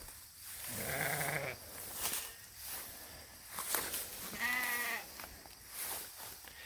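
Sheep bleat twice outdoors on a farm where a livestock guardian dog is being introduced, each call a wavering, drawn-out cry standing clearly above a soft background hiss.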